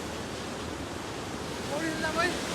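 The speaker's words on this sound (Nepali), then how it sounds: "नौबहिनी झरना हुँदै बढी आएको यो पानी हो यो खोला" A stream fed by Naubahini waterfall in Pyuthan, Nepal rushes past in a steady, close wash of flowing water near a wooden bridge, with a few faint high chirps rising near the end.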